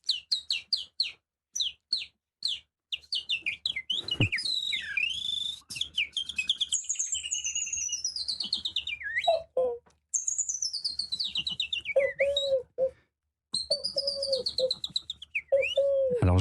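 Human bird singers imitate birdsong with their voices, producing a close, loud series of whistled chirps, trills and sweeping warbles in quick bursts, broken by short pauses; no talk is heard.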